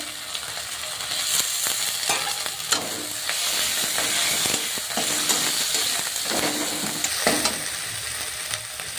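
Chopped tomato for a Bengali-style rohu fish curry fries in hot oil with a steady, crackling sizzle, while occasional scrapes and clinks of stirring break through, close and without talk.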